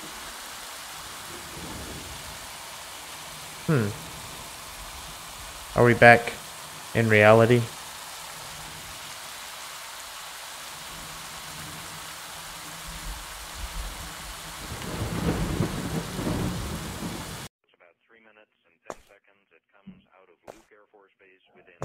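Rain and thunder outside form a low, continuous backdrop while a person speaks a few short phrases over it, before the sound cuts to near silence.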